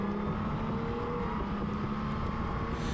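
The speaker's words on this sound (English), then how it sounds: "And again, listen to this bike." A Honda Goldwing DCT motorcycle engine drones steadily and close by with a strong low hum as the rider opens the throttle on a ride, and wind rushes over it.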